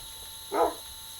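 A puppy in a survival video game gives a single short, high bark, close and clear against quiet background hum.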